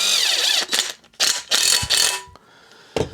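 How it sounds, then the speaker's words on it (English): A bolt holding the blade on a Poulan Pro 185A42LT riding mower is tightened with a ratcheting wrench, giving several quick bursts of sharp clicking separated by short pauses, close and clear. "Get that blade bolted on there."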